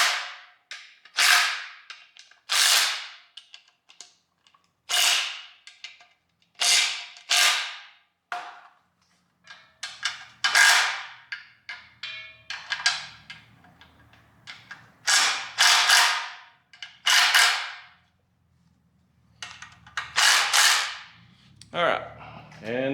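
Oil pan bolts on a 5.3 engine being tightened with a ratchet, giving repeated close, crisp clicking bursts in a steady rhythm with short pauses between, alone without talk.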